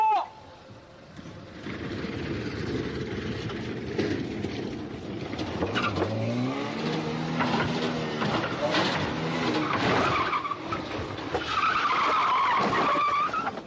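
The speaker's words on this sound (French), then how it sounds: "Non, ça va assez vite, Kia, t'as freiné un peu tôt." A Citroën AX brakes hard on a commercial shoot and its tires skid with a drawn-out squeal, engine noise rumbling throughout and other sounds overlapping near the end.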